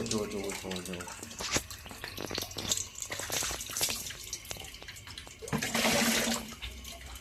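Water splashes and pours in bursts into an air cooler being cleaned at home, with a louder gushing stretch near the end, over background clatter and a voice.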